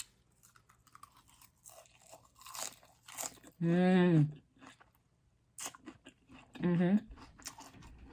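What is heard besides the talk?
crunchy bites while eating spaghetti mukbang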